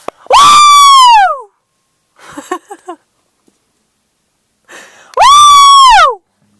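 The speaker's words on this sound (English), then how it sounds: "I'm going to scream really loud" A person outdoors gives two long, loud, piercing screams, each about a second, with a short vocal burst between them and quiet in between.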